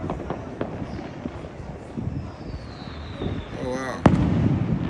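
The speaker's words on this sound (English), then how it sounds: "These fireworks are all personal, by the way." Private fireworks set off by people on New Year's Eve in Trinidad pop and crackle at a distance, with a whistling rocket rising and a sharp bang near the end over steady crowd and street ambience.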